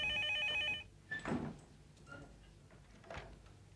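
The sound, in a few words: telephone ringing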